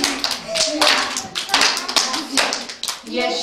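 Children clap their hands in rhythm to a Czech winter song at a school show, a steady run of sharp claps under singing voices.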